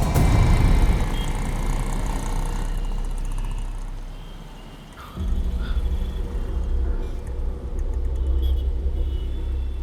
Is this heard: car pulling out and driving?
yes